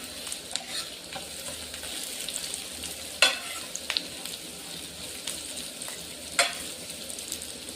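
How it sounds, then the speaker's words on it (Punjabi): Onions fry steadily in a pan for a pumpkin halwa-style sabzi, a soft continuous sizzle with occasional sharp scrapes and clacks of a spoon stirring, no voices. "ਪਿਆਜ਼ ਆਪਣਾ ਭੁੱਜ ਰਿਹਾ ਪਿਆਜ਼ ਨੂੰ ਚੰਗੀ ਤਰ੍ਹਾਂ ਭੁੰਨਾਂਗੇ"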